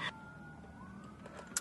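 An emergency vehicle siren wails faintly in the distance near a shopping mall, a thin rising and falling tone behind quiet ambient noise.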